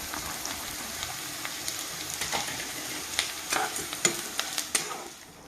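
Pieces frying in a pan for a curry with tamarind leaves and brinjal give a steady, gentle sizzle. Light stirring clicks grow more frequent toward the end, close by and quiet, with no talking.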